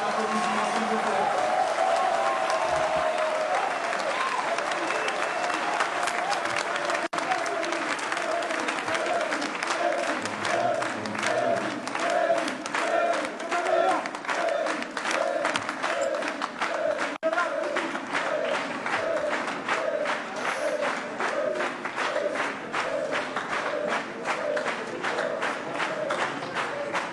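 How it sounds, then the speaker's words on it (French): Sustained audience applause fills a French courtroom session, dense, continuous clapping from a crowd that carries on for nearly half a minute with scattered voices underneath and no clear speech on top. "dans un premier applaudissement, s'il vous plaît."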